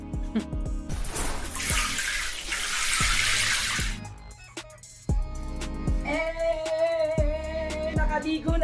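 Water from a shower runs in a loud hissing rush for a few seconds, then stops. Clicks, knocks and music-like tones follow.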